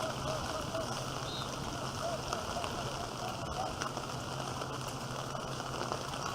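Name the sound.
rain falling during a soccer game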